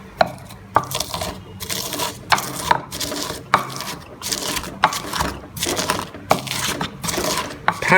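A pestle pounding salt, MSG and sugar in a mortar, Vietnamese style, with steady repeated hard strikes about twice a second, close and fairly loud, and no talk over it.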